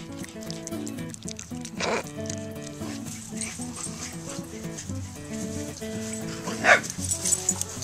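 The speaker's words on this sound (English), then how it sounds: "You barking louder? Barking?" A dog barks and yips repeatedly over steady background music, with a louder bark standing out near the end.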